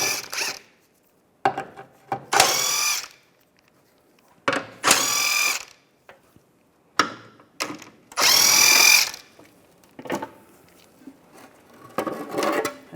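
A power tool with a 16mm socket removes bolts on a 2004-2010 BMW X3 during a front CV axle job, giving several short, loud bursts of whirring with ratcheting clicks between them.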